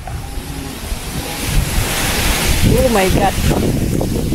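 Wind blowing hard and roaring across the microphone outdoors, with a voice speaking briefly over it.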